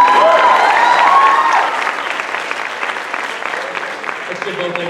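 Audience applause at a Miss Harvest Homecoming pageant, dense clapping that is loud at first and then eases slightly but carries on, with a voice speaking in the background.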